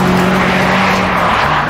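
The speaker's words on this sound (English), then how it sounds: "VTEC engine in this is astonishing." Honda VTEC engine revving hard toward 9,000 RPM in a road-legal sports car, a loud, sustained high-pitched wail that holds steady throughout at close range with no talking.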